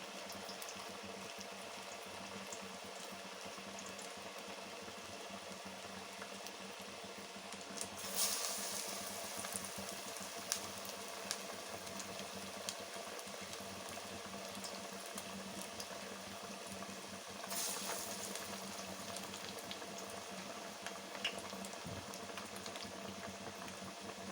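Masala vada deep frying in hot oil, a soft, even bubbling hiss that runs steadily throughout, low in level, with two brief brighter crackles along the way.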